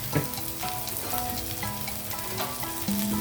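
A vegetable mixture with ginger-garlic paste, turmeric and salt sizzling in a pan, a dense steady crackle of frying with light stirring, close and unbroken, no voices.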